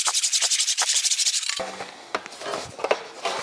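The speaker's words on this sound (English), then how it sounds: "All this is doing is bending the sheet metal over the lower anvil." Sheet metal rolled through an English wheel and bent over the lower anvil: a rapid rhythmic rubbing rasp for about a second and a half, then quieter scattered scrapes and metallic handling noises, close by.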